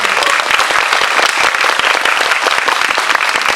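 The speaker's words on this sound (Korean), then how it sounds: "박수 부탁드릴게요" A cinema audience at a film screening and actor talk event claps together in a dense, steady burst of applause, loud and sustained throughout with no voices on top.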